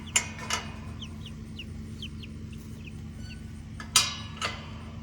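Scattered soft clucks from a chicken over a low steady hum, with a couple of louder knocks near the start and again toward the end.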